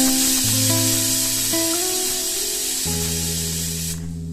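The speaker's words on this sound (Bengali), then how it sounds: "প্রেসারের 3টে সিটি যথেষ্ট।" A pressure cooker full of taro leaves (kochu shak) vents steam with a loud, continuous hiss, while steady whistle-like tones shift in pitch before the sound cuts off near the end.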